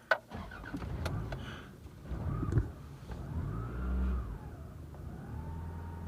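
A car engine cranking and struggling to start on a cold day, with uneven bursts of cranking and a brief catch, close by and alone.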